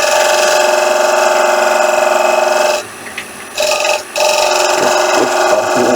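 A spinning wood lathe hums loudly and steadily while a turning chisel rides its bevel on the workpiece, making a continuous rasping scrape that briefly drops away twice as the tool lifts, then resumes.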